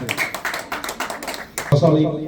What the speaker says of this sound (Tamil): இங்கே மீண்டும் ஒரு பாராட்டு கரகோஷம் நீங்கள் உற்சாகமாக வழங்க வேண்டும்